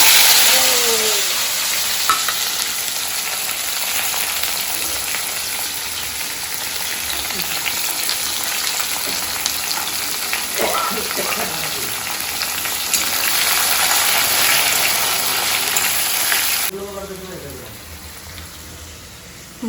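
Dried fish (shutki) frying in hot mustard oil in a wok, a continuous crackling sizzle with occasional stirring scrapes, briefly quieter near the end, with a voice talking intermittently over it.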